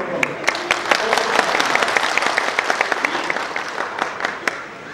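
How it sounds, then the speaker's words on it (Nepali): A crowd at a police training gathering claps together in sustained applause, with sharp individual claps standing out above a dense, steady patter that runs the whole time. "हामी सक्छौँ कति ताली बजाएर समर्थन गरौँ न"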